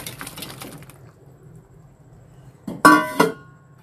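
Raw prawns tip into a pot of simmering pumpkin and potato with a sudden clattering splash and crackling sizzle lasting under a second, rising out of a quiet low kitchen hum.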